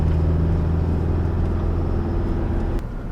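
Cabin sound during a test drive of a Mitsubishi Pajero, with a loud steady engine drone and road rumble throughout and a slight drop in level near the end.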